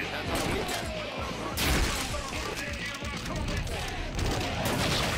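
Pistol fire in the Wii game MadWorld, a loud rapid fusillade of gunshots with crashing impacts in a dense, continuous game mix, with a voice speaking alongside.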